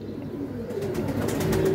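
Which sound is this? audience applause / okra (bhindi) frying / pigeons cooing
pigeons cooing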